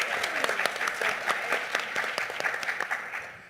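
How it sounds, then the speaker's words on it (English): An audience at a youth mental health symposium gives a steady round of applause, dense clapping of many hands that carries on throughout and tapers slightly at the end. "Can we clap for Zaria one more time"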